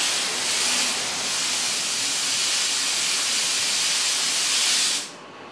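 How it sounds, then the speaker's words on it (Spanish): Compressed air released slowly from a scuba tank valve onto a regulator first-stage dust cap, a steady loud broadband hiss lasting about five seconds before cutting off abruptly. "colocamos el tapón cercano a la salida del aire y simplemente abrimos lentamente la salida del aire"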